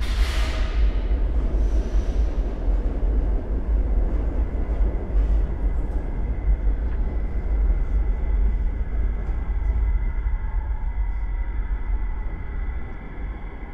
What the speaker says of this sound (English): You hear a train pulling in,